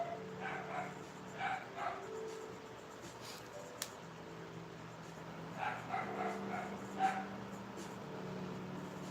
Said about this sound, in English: if it don't sound like we got a whole kennel in here